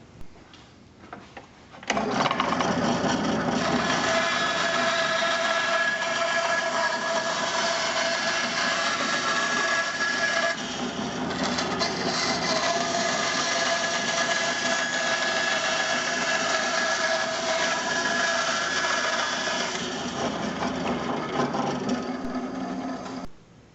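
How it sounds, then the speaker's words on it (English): A bandsaw cuts a curve through an endgrain wooden cutting board, starting with a quiet idle and then a loud, steady high-pitched whine with a constant tone that holds for about twenty seconds before it fades. "now I'm ready to cut this side on the bandsaw"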